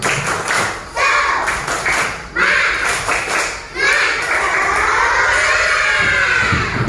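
Schoolchildren in a classroom clap a rhythmic spirit cheer together, loud bursts of claps mixed with shouting voices, rising and falling in several rounds across the stretch.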